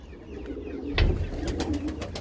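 Very old pigeons cooing softly in a group in a coop, low murmuring calls overlapping steadily with a few brighter rustles and flutters near the middle.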